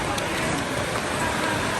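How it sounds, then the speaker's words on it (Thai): Rain pouring at a Thai boxing camp in the evening, a dense, steady hiss of falling water that fills the whole moment evenly and loudly. "บรรยากาศที่ค่ายนะฝนตกนะนี่"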